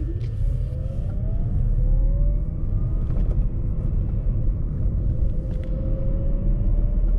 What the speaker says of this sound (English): As you can see, I can move the car from the second gear.